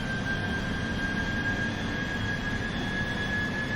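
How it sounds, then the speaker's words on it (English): Boeing 747-400 jet engines at go-around thrust during a missed approach produce a steady, even roar with a high whine running through it, heard alone with no voices for a few seconds. "I'm going to push toga, there's go around thrust."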